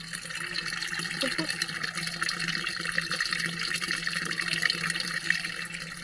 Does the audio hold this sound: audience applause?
no